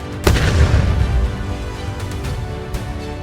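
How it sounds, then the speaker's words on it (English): A huge German railway gun firing shells of over 7 tons lets out a single heavy boom near the start, followed by a long rumbling decay. "this German war machine could fire shells weighing over 7 tons each"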